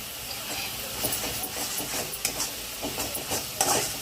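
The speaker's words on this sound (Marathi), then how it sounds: "आणि भाजी चांगली परतवून घ्यायची मंडळी" Vegetables with a pinch of asafoetida being stir-fried in a pan for an aloo matar sandwich filling: steady close sizzle with repeated stirring scrapes and a few louder utensil knocks, no talking.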